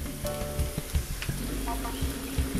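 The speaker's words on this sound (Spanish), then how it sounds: "aquí siguen hirviendo los duraznos" Peaches with cinnamon boil in a pot to make syrup, giving a close, steady bubbling and sizzling with scattered soft pops.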